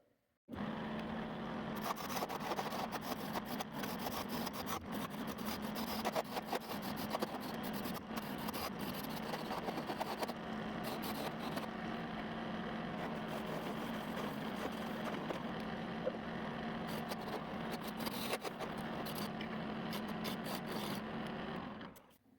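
Wood lathe turning a walnut and cherry bowl, a continuous steady whir and rasp of the tool cutting the spinning wood, close and even throughout with no talking.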